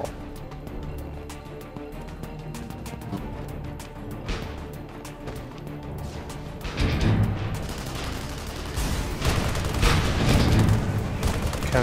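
Chain cannon in the video game Tribes Ascend fires in dense, rapid bursts amid busy combat noise, growing louder and heavier in the second half.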